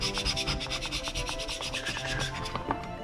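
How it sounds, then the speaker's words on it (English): Close, rhythmic scraping strokes across a freshly printed 3D resin model during cleanup, a dry rasping rub repeated quickly with no talking. "And then what I like to do is I'll give it a scrape here."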